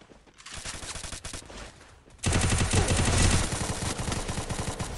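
Rapid automatic gunfire from the video game Free Fire crackles in dense bursts, sparser at first, then a louder sustained barrage after about two seconds, with no talk.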